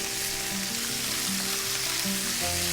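Steaks fry in a hot pan after being flipped, a loud, steady sizzle close up with a few low tones from the stovetop underneath.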